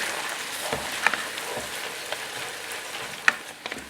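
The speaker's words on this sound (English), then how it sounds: "We're gonna just put one ladle in now, and we just want to reduce this down a little bit." A ladle of hot stock hits chicken and asparagus risotto in the pan, giving a soft, continuous sizzle with a few small clicks and spoon taps, quiet and close, with no talk.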